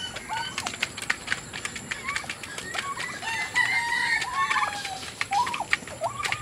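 Rhode Island Red and Buff Orpington chickens in a rural backyard flock give repeated clucks and crowing calls, fairly close and steady over a light outdoor background, with no talking.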